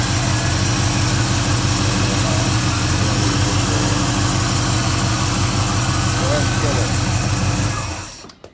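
A Chevrolet Monte Carlo SS V8 runs at a high choke fast idle, a steady loud drone with a rapid even pulse that continues for several seconds, then cuts off near the end.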